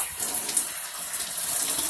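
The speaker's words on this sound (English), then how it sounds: "I'm gonna add a little water to finish off this steak seasoning in here." Tap water pours steadily into a pressure cooker while teriyaki drumsticks are being seasoned with brown sugar, a close, continuous splashing stream lasting a couple of seconds.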